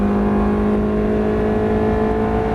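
Ferrari F430 F1 accelerating hard in fourth gear on the Nogaro track, a loud steady engine roar with strong tonal harmonics rising slightly in pitch, heard from inside the car without talking.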